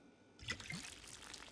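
Liquid being poured onto the ground in Project Zomboid makes a short, quiet splash and trickle that starts abruptly and then settles into a faint, brief dribble.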